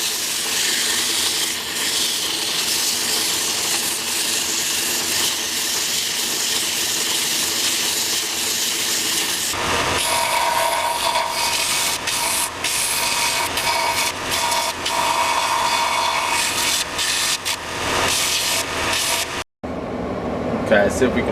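Restored vintage drill press boring into wood, a steady close rasping and rubbing whir that holds throughout and changes tone partway, then cuts off just before the end.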